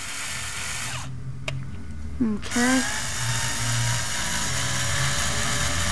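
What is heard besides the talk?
power drill drilling out a hole in RC truck link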